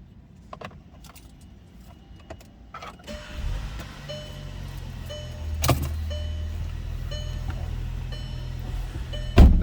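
A 2022 Volkswagen Passat R-Line starts up, with faint clicks and a brief whirr first, then a steady low idle drone that settles in and holds, fairly quiet and close.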